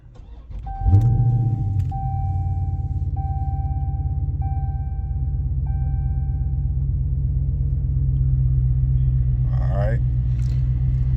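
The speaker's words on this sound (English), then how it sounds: "About to go ahead and start it up. Let's go ahead and start it up." A 2023 Chrysler 300C SRT engine cranks and fires, then settles into a deep steady idle rumble while a repeating warning chime sounds several times near the start.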